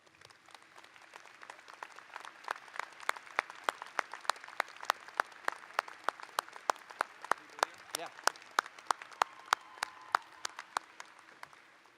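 Steady applause from a commencement audience at a university graduation, many hands clapping at a moderate distance with sharper individual claps standing out throughout, and some voices faintly beneath it.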